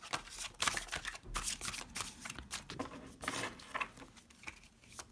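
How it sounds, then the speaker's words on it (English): Oracle cards being shuffled by hand, a run of quick papery riffles and slaps in irregular bursts, close and clear with no talking. "Let's clarify here with some oracle cards and see what's going on."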